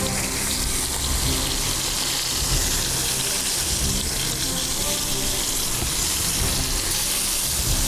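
Short ribs sear in a hot pan, a steady loud sizzle and hiss of frying fat that carries on without break.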